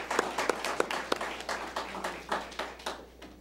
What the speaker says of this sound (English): Another round of applause for the young ladies.